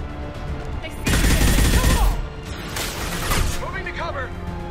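Bursts of gunfire in a Mass Effect 2 combat scene, loud and dense rapid shots in two main volleys, with brief character voices between them.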